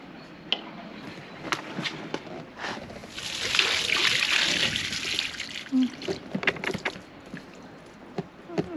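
Water draining from the tank of a new motorhome, a quiet trickle and splash that swells into a stronger gush midway, then breaks into irregular drips and knocks, heard close up.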